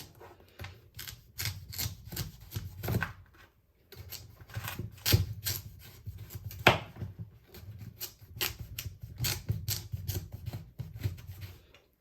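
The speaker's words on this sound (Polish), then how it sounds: "Teraz kroimy naszą dynię na mniejsze kawałki." Knife chopping a pumpkin into smaller pieces on a board, a close series of crisp, uneven cutting thunks and scraping strokes in irregular rhythm with brief pauses, no speech.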